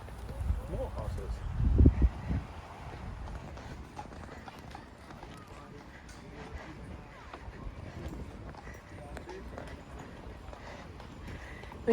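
Carriage horses' hooves clip-clop at a steady walking pace on a road in Killarney, fairly faint under low background noise, with a brief louder bump early on.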